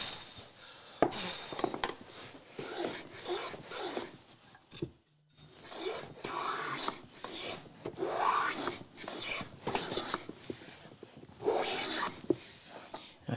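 A No. 5.5 hand plane squaring wood on a shooting board, repeated close rasping strokes in a steady rhythm with one brief pause midway.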